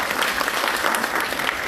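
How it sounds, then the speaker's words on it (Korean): Big applause for a team leader at a conference session, a dense, steady wash of clapping from the audience that holds for the whole stretch with no voices over it. "저희 홍성희 팀장님께 다시 한번 큰 박수 부탁드리겠습니다."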